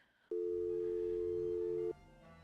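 Telephone tone from the Nancy Drew video game, a steady loud electronic hum lasting about a second and a half over quiet background ambience, starting and stopping abruptly.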